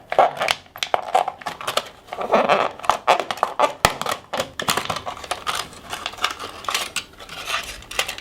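Cutting the bottom off a glass bottle: rapid, irregular sharp clicks and scraping ticks, close and fairly loud, coming in uneven bursts with brief gaps.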